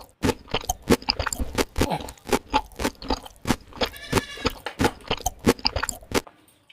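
Chowmein being chewed fast during a timed eating challenge, a steady run of close, crunchy, wet chewing bites repeating in quick rhythm with no talk over it.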